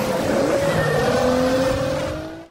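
Race cars roaring off the start line in a racing film, a loud continuous engine drone with rising revs and a tire squeal, holding steady for about two seconds before cutting off abruptly.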